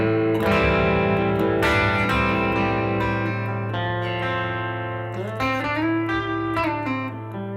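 Electric guitar played through a Rockbox Boiling Point overdrive pedal, sustained driven chords and single notes ringing with a clear reverb tail, loud and alone without talk.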